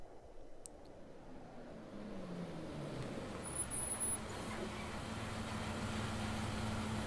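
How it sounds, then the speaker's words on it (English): A bus engine in the Everlasting Summer video game, a low motor rumble that grows louder and nearer partway through as the vehicle approaches and pulls over, heard alone at a soft level. "The sound of an engine brought me back to reality. A bus pulled over."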